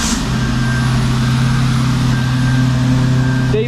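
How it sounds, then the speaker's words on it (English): A concrete mixer truck's engine runs steadily nearby, a loud low droning rumble that holds constant throughout. "Can you tell by the sound of the truck what we got?"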